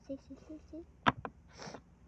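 A couple of sharp wet sniffs close to the mic, followed by a breathy exhale, with quiet speech murmuring before them.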